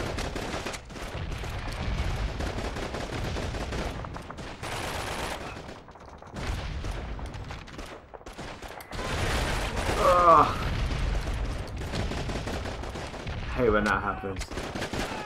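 Gunfire in Call of Duty 2: Big Red One, bursts of machine-gun and rifle shots crackling in uneven volleys with mechanical clanks, loud and close, with someone briefly talking over the combat.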